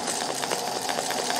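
Home sewing machine running a straight stitch while embroidering with coral thread over pink, a steady rapid mechanical whir with faint rhythmic needle pulses throughout.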